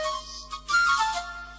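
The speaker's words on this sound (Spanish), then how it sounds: "utilizaban un instrumentillo de varias notas llamado syrinx" A small multi-note pipe resembling a syrinx or tiny flute gives short, bright whistled tones, changing pitch in a brief phrase, close and clear with no talking.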